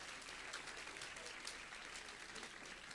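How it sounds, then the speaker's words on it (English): Steady applause at a school award ceremony for 11th and 12th grade students, a hall full of clapping hands sustained evenly throughout with no break. "Let's give him one round of applause."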